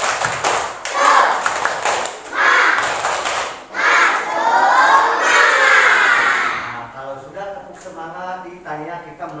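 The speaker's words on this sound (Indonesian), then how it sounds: "Coba tepuk semangat." Schoolchildren in a classroom perform a clapping chant together, loud rhythmic group claps mixed with shouted chanting voices, close and energetic, fading toward the end.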